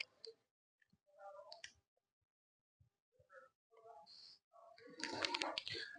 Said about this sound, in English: I'm just going to shake it up, toss the dice